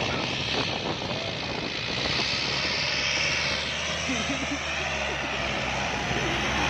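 A turbocharged Kubota engine races at high revs in a Thai competition, a loud, continuous roar with a steady drone throughout and voices mixed into the noise.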